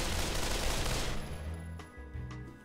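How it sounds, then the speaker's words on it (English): Gunfire in the VR shooter game Pavlov VR: a dense burst of rapid automatic shots for about a second, then fading echoes and a couple of lighter clicks, fairly quiet overall. "I killed him by blind firing around the corner"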